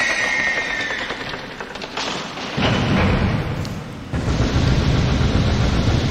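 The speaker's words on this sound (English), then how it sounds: "Explosions." Deep, rumbling explosion blasts in The Legend of Zelda: Skyward Sword HD, with a heavy boom kicking in mid-clip and another surge near the end over continuous low roar.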